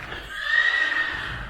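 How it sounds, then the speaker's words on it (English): A single horse whinnies at moderate distance, a drawn-out, wavering call lasting about a second, with no talking. "Yes, there are horses next door."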